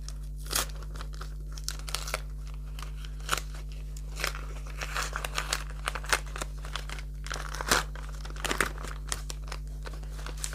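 Crinkly paper crackles and rustles as a small packet is torn and opened up close, in irregular bursts over steady low background hum.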